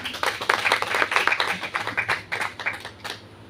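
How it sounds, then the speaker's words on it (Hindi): An audience at a Hindi literary and arts event claps in a brisk burst of overlapping hand claps that fades out toward the end. "तो एक बार जोरदार तालियां।"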